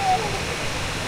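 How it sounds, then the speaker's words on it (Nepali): A monsoon-season waterfall near Sundarijal roars as a steady, dense rush of water, close and continuous for a brief moment. "झरना"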